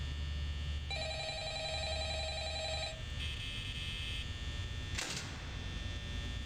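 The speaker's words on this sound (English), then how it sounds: "Phone is ringing." A telephone rings inside the Five Nights at Freddy's video game, its bell-like tones sounding in two bursts over a steady electrical hum, followed by a short noisy rustle.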